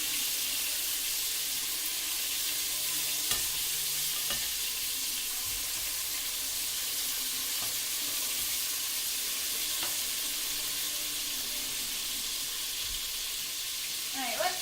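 Beef and onion fry in a hot pan, giving a loud, steady, close sizzle. A few soft clinks and scrapes come through as the meat is flipped.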